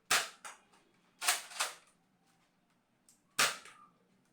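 A Nerf Elite 2.0 Echo toy blaster fires several sharp, close shots, two in quick succession and then a pair, with one more after a pause, each a crisp snap followed by a short decay.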